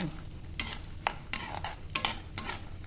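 Raisins and almonds frying in a pan for thin poha chivda: quiet, intermittent scraping strokes of a spatula come in short bursts over a faint sizzle, with no talking.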